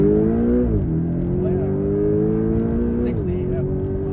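Porsche 718 Boxster GTS with 7-speed PDK dual-clutch gearbox, driven in manual mode, pulling hard from first gear: a loud, close engine drone climbing in pitch, dropping at each quick upshift, then rising again.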